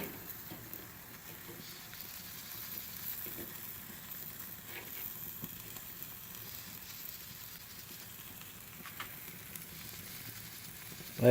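A cheeseburger patty sizzles steadily in a pan as the cheese melts over it, a soft continuous frying hiss with faint crackles, fairly quiet, and no talking.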